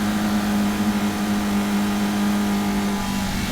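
Caterham Roadsport race cars charge past on the Cadwell Park circuit, a loud continuous engine drone with a steady buzzing tone that holds for the whole moment.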